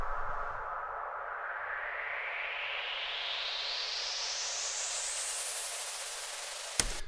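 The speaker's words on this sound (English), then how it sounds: "white noise riser I made in Drums and Knock Volume 4" Synthesized white-noise riser: a hiss that sweeps steadily upward in pitch over about seven seconds at moderate level, ending with a brief thump.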